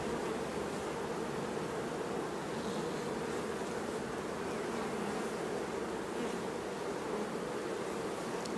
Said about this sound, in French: beaucoup d'abeilles sur le cadre